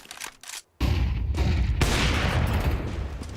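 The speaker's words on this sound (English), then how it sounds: "Another missed shot for Zorti." Gunfire in a Counter-Strike match at the IEM Cologne Major, a few sharp shots and then a sustained loud burst of rapid fire with echoing booms, with no talk.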